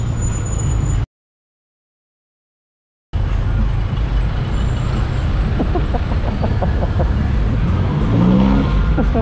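Congested road traffic during possible road construction, with cars, trucks and buses idling and rumbling nearby, a short dropout, then engines revving and an air brake hiss.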